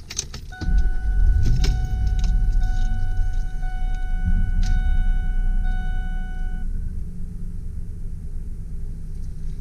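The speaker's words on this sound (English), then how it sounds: "Starts up with no problems." A 2000 Ford F-150 XLT extended cab 4x4 with a five-speed manual cranks and fires up close by, a brief rumbling start settling into a steady low idle, with a chime sounding from the cab over it.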